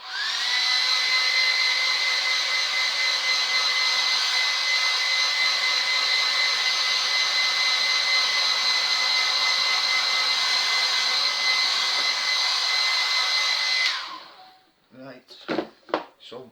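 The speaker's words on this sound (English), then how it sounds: "quick blast again with the hair dryer" A hair dryer blows loudly and steadily for about fourteen seconds, then switches off, followed by a few faint clicks and handling sounds.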